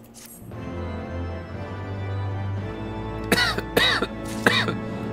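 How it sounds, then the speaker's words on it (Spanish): Several sharp, close coughs come in a quick cluster during a Final Fantasy XIV: Heavensward game session, rising over low, steady game music. "sigo tosiendo que flipas"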